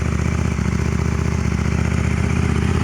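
A KTM Duke 890 GP motorcycle fitted with a VLAF aftermarket exhaust idles about seven feet away. It gives a steady, loud, throbbing putter with an even pulse throughout.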